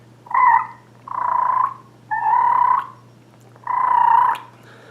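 A human voice imitates a wild turkey's purr, making a squeaky, gargling throaty trill in four separate bursts, each about half a second long, with short pauses between them. The calls sound close and clear, and nothing else is heard.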